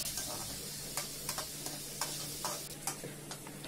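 Chopped onions and green chillies sauté in a pan for egg thokku with a close, steady hissing sizzle, punctuated by regular light taps of a stirring spoon.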